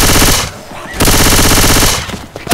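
Rapid automatic assault rifle fire in a first-person shooter video game, loud and close, in two sustained bursts separated by a brief pause.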